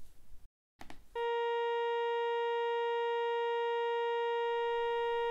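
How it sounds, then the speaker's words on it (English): A single trumpet waveform loops as a steady, slightly robotic synthetic tone. It holds for about three and a half seconds after a few brief clicks, then cuts off into quiet. "All it's doing is looping the wave over and over, and it sounds kind of like a trumpet, if a little bit robotic."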